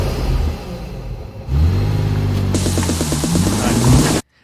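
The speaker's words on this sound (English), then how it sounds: "that is Naoki's car that he's ragging" Naoki's car revving hard, a loud steady engine drone that climbs in pitch, with rapid rhythmic pulses near the end before cutting off abruptly.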